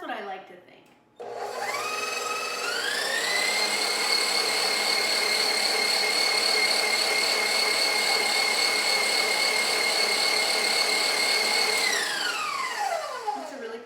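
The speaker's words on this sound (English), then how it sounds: "do you think that Granny Griggs had a beautiful coppery colored KitchenAid?" A coppery KitchenAid stand mixer beats shortening in a bowl, whirring up quickly to a steady high motor whine that holds for about ten seconds before spinning down.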